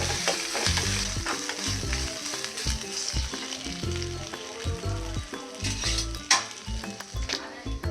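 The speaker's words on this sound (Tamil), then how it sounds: "கருவேப்பிலை இப்போது ஃப்ரை பண்ணிக்கலாம்." Curry leaves frying in hot oil in a pan while tempering for Kanchipuram idli, with a loud continuous sizzle and crackle right up close, broken by irregular spatters and occasional soft stirring knocks, no voices.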